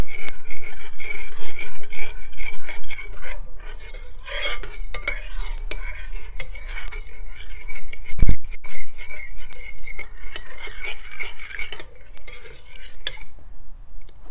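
A spoon stirs sugar and coconut cream in a bowl for Vietnamese honeycomb cake, with continuous scraping and clinking against the dish, one sharp knock partway through, fairly close and loud.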